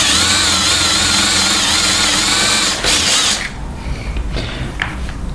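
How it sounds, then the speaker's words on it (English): A power drill with a drill bit bores into an old Fortress casing, a loud steady whine for about three seconds that then drops to a rougher grinding, rattling sound as it works through the material. "let's see if we can drill the casing with the same."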